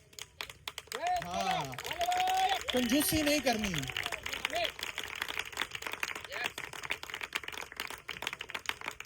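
A church congregation at a Malir Cantt service claps together in a dense, sustained burst that starts around the first second, with a preacher's voice speaking over it before the clapping thins out.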